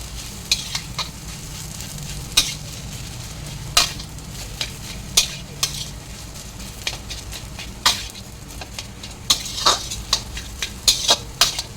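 Food being stirred in a frying pan, with a steady sizzle underneath and frequent sharp scrapes and clinks of the spatula against the pan in an irregular rhythm, close and fairly loud.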